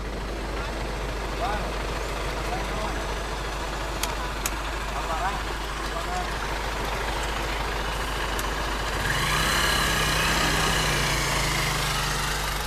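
A truck engine drones steadily while driving slowly through a large herd of cattle on a road, the motor growing louder and closer toward the end over a constant outdoor rumble.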